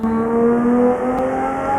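A car engine in the Euro Truck Simulator 2 multiplayer drift mod hums at steady high revs, a continuous droning whine with slight pitch shifts, alone and fairly loud.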